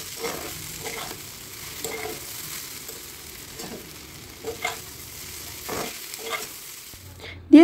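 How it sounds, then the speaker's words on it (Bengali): Homemade noodles stir-fried with vegetables in a pan, a soft steady sizzle broken by repeated scraping and tossing strokes at a moderate distance, ending with a louder clatter. "এবার সবজির সাথে নুডলসগুলোকে খুব ভালো করে মিশিয়ে নিতে হবে"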